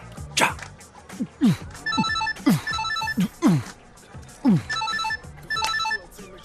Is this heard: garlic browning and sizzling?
no